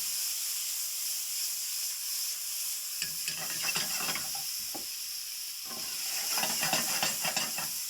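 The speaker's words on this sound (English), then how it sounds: "I just want to brown the meat off." Pork sausage meat browning in a hot pan, a steady hiss and sizzle with intermittent scraping and stirring bursts, fairly close and moderately loud, no talking.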